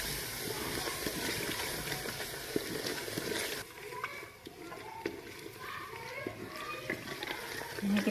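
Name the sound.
spices being roasted in a pan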